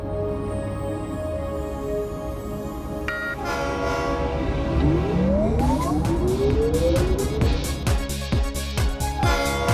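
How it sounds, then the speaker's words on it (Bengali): In a cartoon, a train approaches with loud, sliding, siren-like horn blasts over a rumbling, rattling clatter of wheels that grows busier toward the end. "ওই দেখো, ট্রেন আসছে।"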